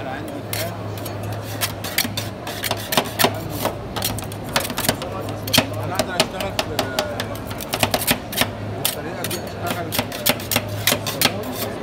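Ice cream rolls being made on a frozen plate chilled to minus thirty degrees, rapid metallic scraper taps and chops clattering in quick irregular bursts throughout, with a voice talking over them.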